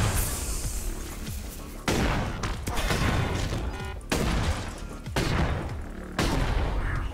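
Enemy fire comes from a distance in the roguelike shooter Kill to Collect, a dense, sustained barrage of gunfire that breaks into repeated bursts of a second or so. The bursts are separated by brief drops in level, with no voices.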